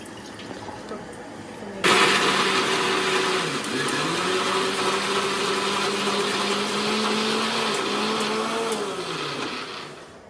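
A kitchen mixer grinder grinding ginger and coriander into paste kicks on abruptly and runs loud and steady, its motor whine shifting in pitch as the blades churn, close by and with no talk.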